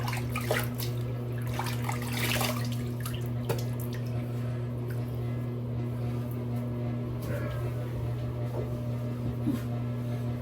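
Tap water runs steadily while someone rinses off after a shave, making a continuous close wash of sound over a low hum, with no talking.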